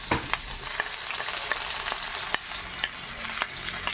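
Garlic and onion sautéing in hot oil in a pan, a steady close sizzle with scattered pops and crackles and occasional stirring scrapes, no voices.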